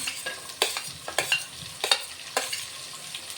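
Carrot pieces and broad beans fry in a pan with a steady, soft sizzle, broken by sharp scraping stirs of a spatula roughly every half second to second, close and alone with no voices.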